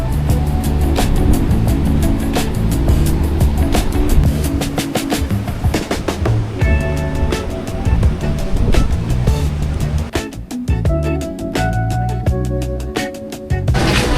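Strong surf breaking on Boracay beach at low tide, loud crashing washes and wind-blown rushes with sharp bursts and gaps, close and dominant.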